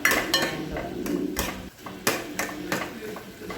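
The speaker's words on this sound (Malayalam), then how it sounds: "നന്നായിട്ട് ഇളക്കി കൊടുക്കാം നമുക്ക്" Rasam stirred in a metal pot, a ladle knocking and scraping against the sides in a run of sharp clinks and taps at close range, with no talking over it.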